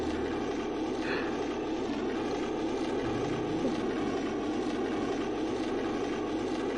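The Millennium Falcon flies in Star Wars: Rogue Squadron 3D, giving off a continuous dense engine roar that stays steady and loud throughout, with no voices.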